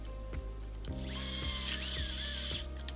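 Power tool drives screws into a plastic body mount on a Kraton XL RC car, giving a close whirring drill burst with ratcheting clicks as the screw tightens, alone and fairly loud.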